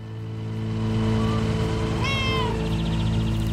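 A cat meows in the video game Lake, one clear drawn-out meow rising over a steady engine-like hum, followed by fainter chirping tones.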